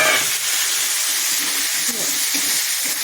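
Taro, salt and turmeric go into sizzling masala for a rohu fish curry, giving a loud, continuous hissing sizzle with faint stirring underneath.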